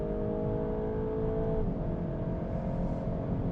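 A VW Golf 8.5 GTI Clubsport accelerates hard on the Autobahn, its engine a steady, loud droning roar inside the cabin that dips in pitch briefly midway, as at a gear change, then keeps pulling.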